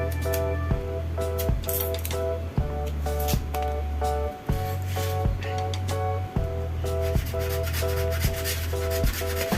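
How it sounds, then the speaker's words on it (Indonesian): Rhythmic back-and-forth sawing strokes with a hacksaw cutting gypsum moulding, each stroke a short rasp over steady background music. "untuk memotong list gypsumnya itu cukup kita menggunakan gergaji besi saja"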